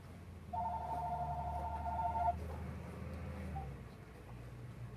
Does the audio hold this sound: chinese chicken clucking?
no